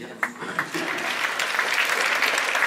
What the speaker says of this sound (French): Voilà, donc je vous demande de vous applaudir.